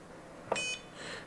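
A biometric quick-access gun safe gives a single short electronic beep while it is being programmed. The beep is clear and close against a quiet room, followed by a fainter tone.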